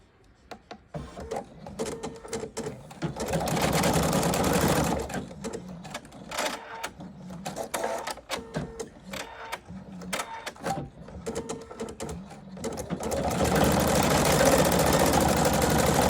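A Husqvarna Viking Sapphire 85 sewing machine stitches a test pattern in bursts, a rapid mechanical chatter of needle strokes with brief pauses and a longer continuous run at the end, recorded close up and fairly quiet.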